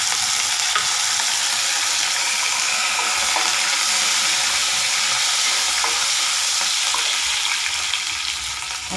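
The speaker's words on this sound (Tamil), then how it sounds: "அடுத்தது கருவேப்பிலை போட போகிறேங்க." Curry leaves crackle and sizzle in hot oil while ivy gourd curry is being made, a steady, loud frying hiss lasting throughout with no voices.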